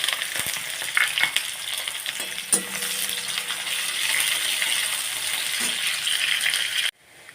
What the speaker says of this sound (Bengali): আমি একটু বেরেস্তা ভেজে নেব।